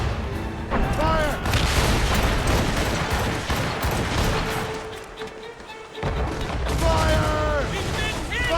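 Ship cannons boom repeatedly in a naval battle in Assassin's Creed Rogue, heavy volleys rolling almost continuously under shouted crew orders and the creak and rush of the sea.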